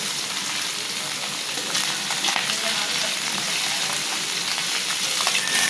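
Small puti fish frying in hot oil, a steady, dense crackling sizzle that holds close and loud throughout with no voices over it.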